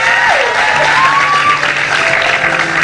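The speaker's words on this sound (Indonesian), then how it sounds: "tepuk tangan dulu untuk Jessica Iskandar." A studio audience at a 2014 Indonesian TV talk show claps in steady, sustained applause that fills the whole stretch, with a faint musical tone running beneath it.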